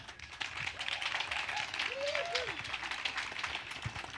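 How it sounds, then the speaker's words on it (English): An audience at a natural building panel applauds the panelists, a dense even patter of clapping from a crowd that holds steady throughout, with faint tonal voices sounding briefly in the middle. "give them a round of applause."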